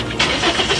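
Car engine cranking and catching, a short close burst of starter and engine noise, loud and brief with no talking.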